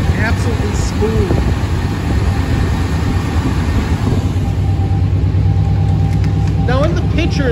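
A 1990 Chevrolet K1500 Silverado 4x4 truck engine runs at a steady, loud, smooth idle, with the exhaust cut off after the mufflers, continuous throughout.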